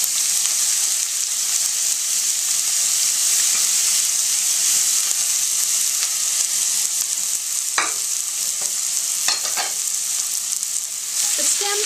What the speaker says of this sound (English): a little sesame oil, and I'm going to put the stems that I've cut up right into there. And add the garlic and onions.